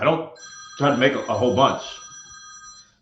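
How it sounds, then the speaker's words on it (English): A phone on a desk rings with a steady electronic tone for about two seconds while someone talks over it. "that was my phone."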